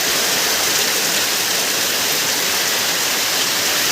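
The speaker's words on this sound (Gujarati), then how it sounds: "અમારા મેથળા ગામમાં જો અત્યારે તમે લાઈવ વરસાદ ચાલુ થઈ રહ્યો તમે જોઈ શકો છો" Heavy monsoon rain pours down steadily in Methala village, a dense, loud, unbroken roar of falling water with no voices.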